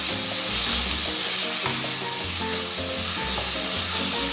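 Potatoes fry in a little oil with salt while being stirred, producing a continuous, dense sizzle with stirring scrapes, close and steady, with no voices.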